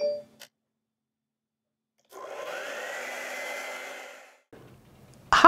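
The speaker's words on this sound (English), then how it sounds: "Let's take a minute and dry everything before we try to put red on top of wet green." A hair dryer blowing over wet acrylic paint runs for about two seconds as a steady whirring roar, then stops, with brief handling noises before and after and no talk.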